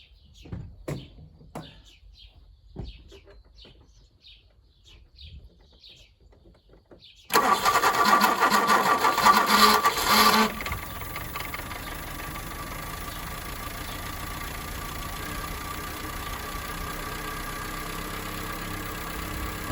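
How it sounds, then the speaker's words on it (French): A 1986 Peugeot 205 GR, a long-abandoned barn find, cranks with faint clicks, then catches and fires loudly before settling into a steady, slightly rough idle that runs on to the end. "On met ça en route et démarre."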